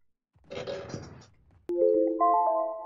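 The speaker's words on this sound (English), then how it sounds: "But that's my alarm." A phone alarm goes off during a gaming session. It is a loud, close melodic ring of stepped tones that starts abruptly about halfway through, after a burst of noisy clatter.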